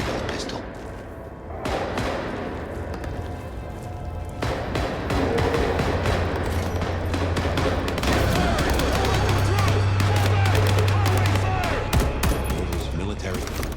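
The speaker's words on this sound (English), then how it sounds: "Gunfire?" Gunfire in the video game Vampire: The Masquerade - Bloodlines 2, a dense run of rapid shots with booming low thuds and a steady rumbling drone beneath, loud and continuous for most of the stretch.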